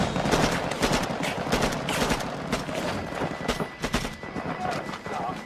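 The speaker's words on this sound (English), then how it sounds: "At the sound of gunfire," Rapid bursts of gunfire crackling in a dense, continuous stream, loud and chaotic with overlapping shots throughout.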